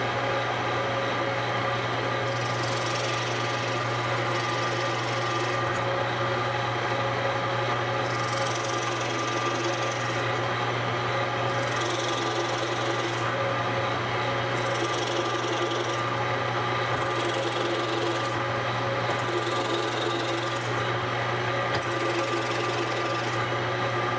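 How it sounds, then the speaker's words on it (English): Drill press fitted with a plug cutter boring plugs from scrap Goncalo Alves wood, a steady machine hum with repeated whining cutting bursts recurring every few seconds, close and alone without talk. "turn on my drill press, and start drilling a couple of plugs"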